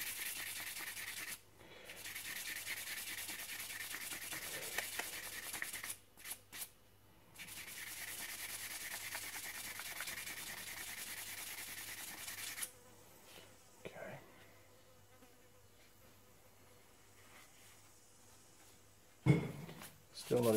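Sandpaper rubbing around the brake caliper piston of a Honda CRM250 front caliper, a steady close hiss in long continuous strokes with brief pauses, then quieter scraping and a few sharp knocks near the end.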